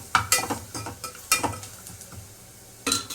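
Black pepper and cumin dropped into hot oil for a rasam give a soft crackling sizzle, broken by several sharp metallic clinks of a spoon against the pan.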